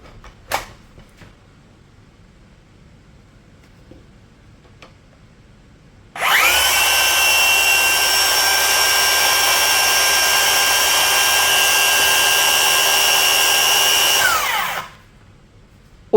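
A Bosch GKS185L cordless brushless circular saw on a Procore 4Ah battery spins up at no load after a quiet stretch, holding a loud, steady high-pitched whine for about eight seconds before spinning down, close by and alone.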